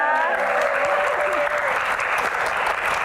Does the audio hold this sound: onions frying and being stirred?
no